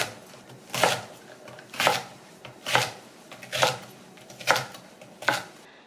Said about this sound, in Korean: 믹서기에 갈 거니까 그냥 좀 잘게 썰어주세요.